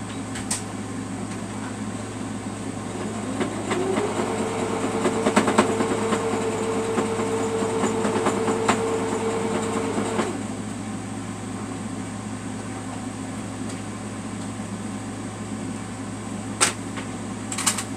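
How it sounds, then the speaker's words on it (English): A sewing machine motor whirs steadily for about six seconds while stitching a quilt pillow closed, over a constant low background hum, then stops. "now I'm just going to take it over there to the sewing machine and we're going to sew it down"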